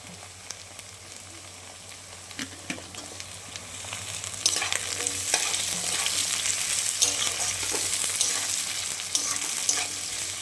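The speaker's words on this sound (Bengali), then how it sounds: "আলুটা একটু ভাজা হোক, তারপরে আমি দিব মূলোটা" Potatoes and radish fry in a pan while being stirred, a close sizzle punctuated by frequent spatula scrapes and clacks that thickens into louder crackling partway through; no speech.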